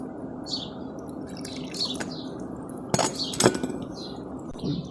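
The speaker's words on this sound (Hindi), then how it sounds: "अब इसको मिक्स करते जाएंगे।" A spoon mixing sugar and seviyan vermicelli in a bowl for a custard dessert, giving a quiet scrape with a few sharp clinks against the bowl, while birds chirp faintly in the background.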